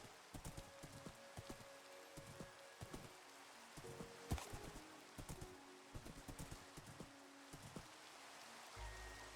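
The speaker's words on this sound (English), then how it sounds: "even though it's raining, which I'm used to a lot of rain" Rain falls steadily in a Minecraft world of hilly biomes under a dark sky. It makes a soft, continuous patter, with rhythmic hoof-like clip-clops running through it.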